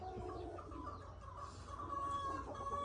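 Hens cluck softly and repeatedly, with a faint crow-like call in the background, steady and close, and no one speaking.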